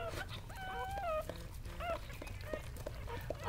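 A birthing mother dog gives several high, thin whimpering cries, wavering in pitch, close by over a low steady background hum.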